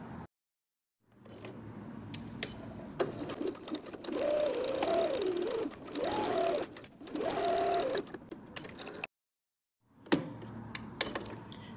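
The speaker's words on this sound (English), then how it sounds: "We're going to go to our sewing machine and sew right along this edge" A sewing machine stitches a 3/8-inch seam along the edge of a fabric face mask in several steady bursts, pausing briefly between runs, close and fairly quiet.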